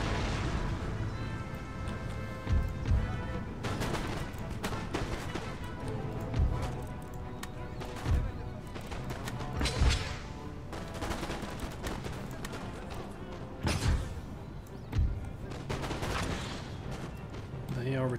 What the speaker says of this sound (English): Get my main artillery to start going after this artillery piece.